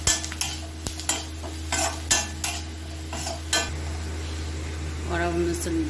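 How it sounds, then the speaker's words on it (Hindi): A spoon stirs ground spices and crushed red chilli in a cooking pan, scraping and tapping in repeated strokes over a low sizzle with a steady background hum. "इसको चलाना है।"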